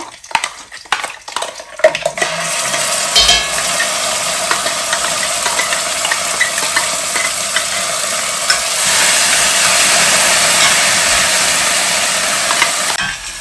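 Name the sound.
frying ground masala spice paste in a pan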